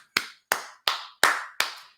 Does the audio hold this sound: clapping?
yes